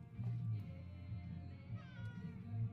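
In the video game Life is Strange True Colors, a cat gives several soft meows in a row, fairly quiet against a low background hum.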